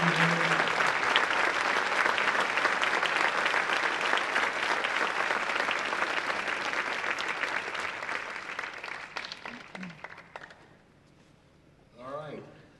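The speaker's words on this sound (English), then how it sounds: "Let's have a big round of applause for all our inductees tonight" Sustained applause from a concert hall audience honoring Music Hall of Fame inductees, broad and steady for about ten seconds before tapering off, with a brief voice near the end.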